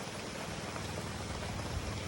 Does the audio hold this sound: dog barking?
no